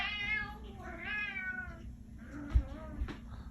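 A cat meows several times in a row, drawn-out rising and falling calls at close range, followed by a few soft thumps.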